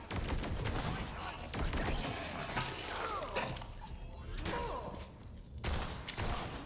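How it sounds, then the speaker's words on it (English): A Jakobs shotgun in Borderlands 3 fires a dense, relentless barrage of loud, booming blasts with hardly a gap between shots, mixed with crashing impacts. "I love the sheer overpowering nature of this shotgun. Just the constant barrage of shells."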